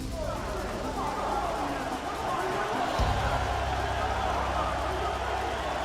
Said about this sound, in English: it is raining here for tonight's game between the LSU Tigers and the Seminoles of Florida State